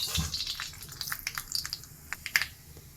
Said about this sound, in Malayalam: നമുക്ക് ആദ്യം ചീനച്ചട്ടിക്ക് എണ്ണ ഒഴിച്ച് കൊടുക്കാം. കടുക് ഇതിൽക്കിട്ട് കൊടുക്കാം.